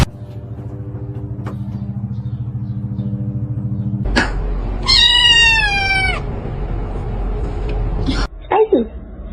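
A cat meows loudly and close in a drawn-out, wavering call, with a shorter second meow at the end, over a low engine-like rumble and some background voices.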